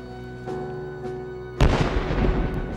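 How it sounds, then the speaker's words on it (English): Confederate cannons open fire on the Union-held Fort Sumter in Charleston harbor, South Carolina, on April 12: after a low steady hum, a sudden heavy boom erupts into a loud, sustained rumbling roar, with no voices. "the rebel guns opened fire on the Union soldiers at Fort Sumter"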